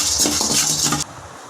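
Cardamom pods roasting in a dry pan for garam masala, with soft rattling and scraping against the metal over about a second before the sound drops away to quiet.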